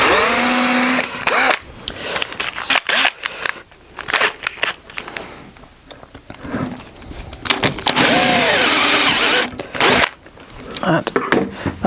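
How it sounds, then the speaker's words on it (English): A dull power drill bores out metal from a Varifold folding sailboat propeller during servicing, heard as repeated bursts of whining, grinding drilling separated by pauses, with clattering handling sounds and some talk between passes. "I picked the world's dullest drill."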